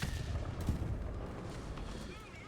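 Tank cannon shot in War Thunder, a deep booming blast with rumbling low-end tail that decays over a couple of seconds, heard loud and close.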